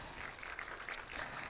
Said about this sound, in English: You should give him a big round of applause.